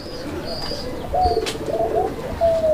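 Domestic pigeons coo in short, soft rolling calls, several overlapping bursts close by against a low background hum, with a few faint chirps mixed in.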